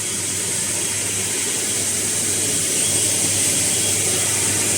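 A KF94 head-mounted mask machine runs with a loud, steady mechanical roar, its slow motor driving the conveyor belt under a constant broadband hum and whir, with no talking.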